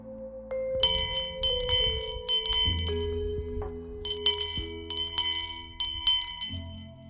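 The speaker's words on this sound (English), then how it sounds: "It's not quite as resounding as the bell that I use" A Nantucket town crier's handbell rings in bright, ringing strokes, several quick clusters of clangs with long sustained tones fading between them, loud and close, with no talk.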